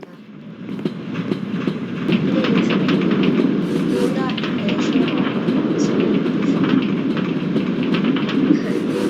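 A train in the Minecraft video game rumbles past on rails, a steady rattling clatter that swells after a couple of seconds and stays loud, while someone talks over it.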